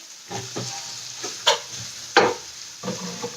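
Peppers tipped into a hot pan for an egg and tomato bake: soft sizzling with several scraping stirs and a couple of sharper clatters of utensil on pan, close and fairly quiet.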